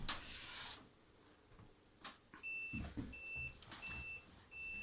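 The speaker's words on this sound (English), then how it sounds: "that's my multimeter telling me it's going to turn itself off." A multimeter gives several short, high, steady electronic beeps in an evenly spaced series, warning of its auto power-off on a workbench. Quieter handling clunks and faint background noise come between and under the beeps.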